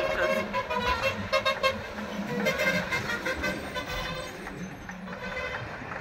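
Large trucks and buses pass on a road heard while cycling, with a rushing engine roar and several short horn toots sounding fairly close over the traffic noise.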